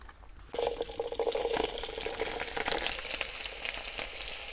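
Small peeled shallots dropped into hot oil with mustard seeds in an outdoor village cooking setting, a sudden loud burst of frying that settles into a dense, steady sizzle with faint bubbling.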